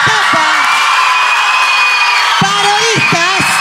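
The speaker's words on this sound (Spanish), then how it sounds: "¡Bien fuerte el aplauso!" A carnival audience whoops and cheers in loud, sustained crowd noise, with a few rising shouted voices standing out near the start and again toward the end.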